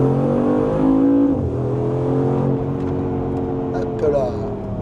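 A 2023 Mercedes G63 SUV accelerates hard at full throttle, a close, loud engine roar with rising pitch that eases briefly and climbs again, with someone talking over it.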